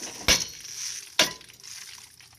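Two sharp hammer whacks, about a second apart, strike a rusty front brake rotor on a 2018 Kia Forte, loud and close, with quiet between blows.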